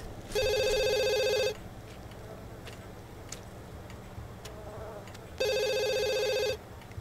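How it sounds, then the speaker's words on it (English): A telephone rings in The Sims 2 video game: two long electronic trilling bursts separated by a few seconds of quiet background, moderately loud and with no talking. "Oh, of course, and the phone rings."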